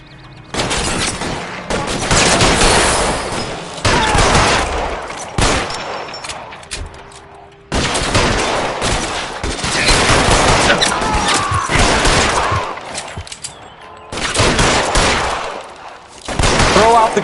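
Loud, sustained gunfire rattles in long automatic volleys during an L.A. Noire shootout, with short pauses between bursts.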